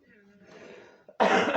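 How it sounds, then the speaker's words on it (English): A person in a room gives a single close, loud cough after a brief faint throat sound. "It's not a spiritual cough."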